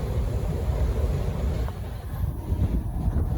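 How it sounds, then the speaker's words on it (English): A train approaching at a Swedish station, a loud low rumble filling the whole stretch with broadband rushing noise and no voices. "I think I hear a train"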